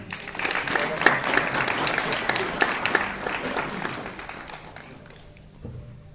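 An audience at a fitness appreciation ceremony applauds steadily and loudly for about five seconds, with dense clapping that gradually thins and fades toward the end.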